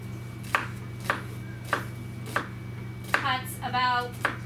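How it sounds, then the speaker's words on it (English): A knife chops an onion on a cutting board in evenly spaced sharp taps, about one every half second, with a brief scraping rustle near the end and no voices. "So to cut an onion,"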